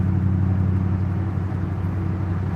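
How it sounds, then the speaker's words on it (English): A pickup truck engine idles steadily nearby, a deep continuous rumble with a low throb that holds even and loud throughout, with no voices over it. "Grandma Vic said that truck sounds great."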